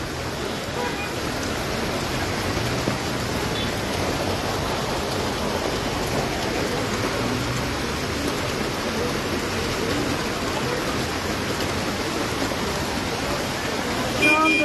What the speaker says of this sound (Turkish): Evet yağmur oldukça hızlandı sevgili izleyenler.